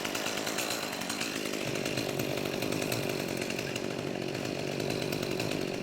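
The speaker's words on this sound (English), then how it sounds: "That's a real chainsaw." A real chainsaw engine runs steadily and fairly close at a constant buzzing drone, with no pauses in the motor and no voices over it.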